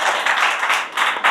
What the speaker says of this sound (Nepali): एकपटक वाइबी सरको लागि जोरदार ताली सम्मान प्रकट गरिदिनु होला